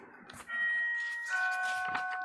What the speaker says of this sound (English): That's just the first bell.